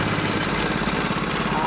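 SYM 110 motorcycle engine repurposed as a longline hauler for swordfish and giant squid fishing, running with a steady chugging idle-like putter, close and continuous.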